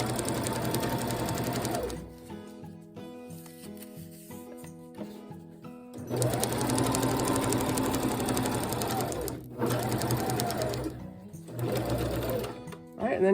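A sewing machine stitches elastic into the gusset of a cloth diaper cover in short bursts, stopping and restarting several times with pauses between runs.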